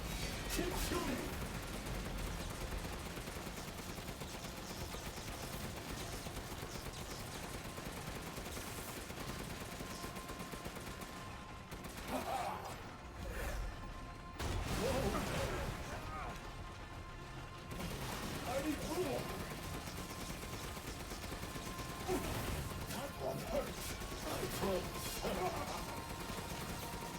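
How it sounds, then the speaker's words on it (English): Video game gunfire in Resident Evil Village, dense and continuous with bursts and crashes throughout a loud battle mix, a voice shouting over it. "Keep shooting!"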